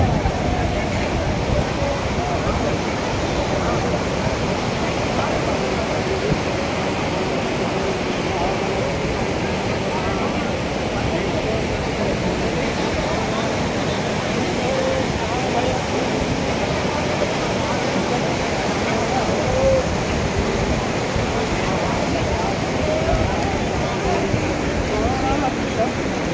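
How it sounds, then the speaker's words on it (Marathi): Near Gangotri temple the Ganga rushes past in a steady, close gurgle and roar that runs the whole time, with a busy crowd around and people talking at times. "जवळच आपल्या गंगामाईचं पात्र आपल्याला वाहताना दिसत आहे"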